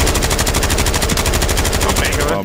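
Loud, close bursts of automatic weapon fire from a Call of Duty Warzone match on Fortunes Keep, shots rattling in a steady fast rhythm before cutting off abruptly at the end.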